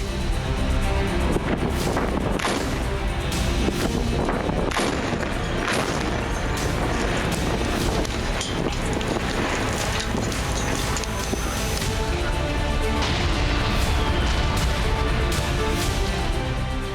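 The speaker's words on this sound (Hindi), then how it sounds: "बेका से बालबे तक हुई भीषण बमबारी।" Heavy bombing in a strike on Hezbollah targets from Bekaa to Baalbek in Lebanon, heard as a continuous loud roar of blasts and rumbling booms with wind-buffeted microphone noise throughout, no clear speech.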